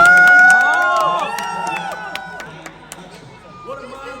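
Audience at the 22nd IIFA Awards ceremony on Yas Island, Abu Dhabi, cheering loudly after a performance, a dense crowd roar with whistles and shouts that swells early and then fades into lighter hubbub.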